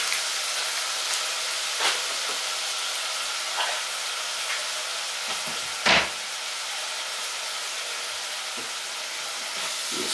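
Seasoned beef mince fries in a pan with a steady, close hiss and sizzle, broken by a few sharper pops and crackles, one standing out louder than the rest.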